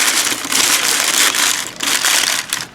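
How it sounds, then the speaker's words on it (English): Packing paper is torn and crinkled close up while a box is being packed, making loud bursts of crisp rustling and crumpling in several waves separated by short pauses. "The sound of tearing and crinkling paper must be really upsetting people who are listening to this with headphones"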